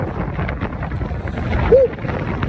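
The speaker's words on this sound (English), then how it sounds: "Sure is windy out here." Strong outdoor wind buffets the microphone with constant low rumbling and gusting noise, loud and close throughout, with a brief faint tonal sound partway through.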